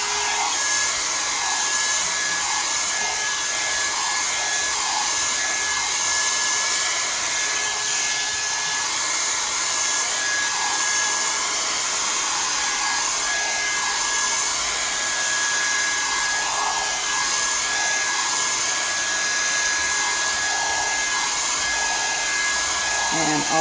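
A hot air brush runs continuously on its high setting while drying hair, a loud, steady whirring blow with a thin whine on top, unchanging for the whole stretch and with no talk.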